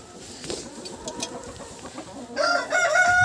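Cochin chickens cluck in a backyard poultry yard, with fowl calls scattered through the clip. A louder crow-like call rises near the end, and faint vehicle noise sits in the background.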